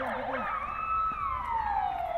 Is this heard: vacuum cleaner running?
no